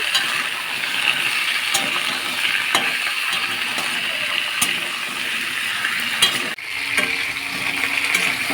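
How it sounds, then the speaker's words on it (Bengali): Potato and eggplant pieces fry together in hot oil in a pan, giving a loud, steady hiss with a few faint clicks of a utensil, close up and with no talk. "আলুর সাথে বেগুন একসাথেই ভাজি করবো"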